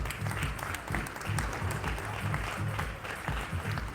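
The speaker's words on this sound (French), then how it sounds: "On peut les applaudir très fort." Spectators at a padel tournament applaud the winning pair, a steady patter of many hands clapping at a fairly soft, even level with a low hum running underneath.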